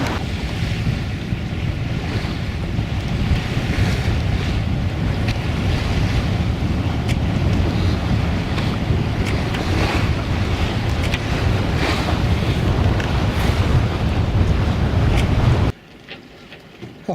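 A sailboat beats up into over 20 knots of wind at sea along the Moray coast, with constant loud wind buffeting and rushing waves against the hull for about sixteen seconds before the noise drops abruptly; no talking.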